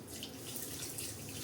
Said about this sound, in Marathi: थोडं पाणी टाकायचे